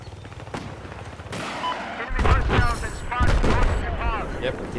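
Mortar shells and explosions boom repeatedly across a game battlefield, heavy thuds landing around the middle and again shortly after, mixed with gunfire while someone talks.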